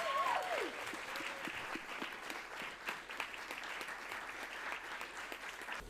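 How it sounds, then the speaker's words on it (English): An audience at a corporate panel event applauds, a steady wash of many hands clapping that holds at moderate level and tapers slightly toward the end. "Give them a round of applause, please."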